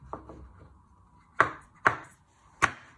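A knife chops pepper pieces in half again on a cutting board, with a couple of light taps followed by three crisp, evenly spaced chops close by.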